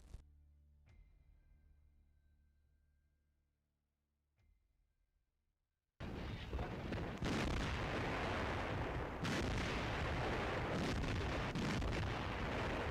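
Distant, muffled booms and rumbling fade out, then a massive continuous roar of Soviet artillery bursts in, dense and loud with sharp cracks inside, at Kursk in July 1943.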